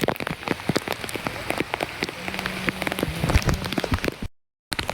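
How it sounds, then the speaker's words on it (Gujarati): Heavy rain pelting a surface outside a housing society, a dense steady patter with sharp drop impacts throughout, loud and close, cutting out briefly near the end. "જોઈ શકો છો ભયંકર વરસાદ છે"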